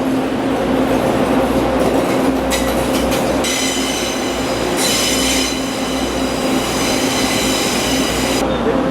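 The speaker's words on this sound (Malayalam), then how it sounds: "അങ്ങനെ ട്രെയിൻ പതിയെ സ്റ്റാർട്ട് ചെയ്തിരിക്കുകയാണ്." A train slowly pulls away along the railway track near a level crossing, with a loud rumbling roll, a steady low hum, and high metallic wheel squeals rising and fading several times.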